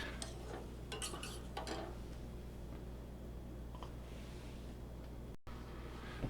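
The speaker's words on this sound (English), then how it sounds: "Just keep stirring until it is" A spoon stirs a gelatine and glycerin mixture, giving a cluster of light scraping clinks against the container early on, then fainter occasional taps over a steady low hum, close and quiet.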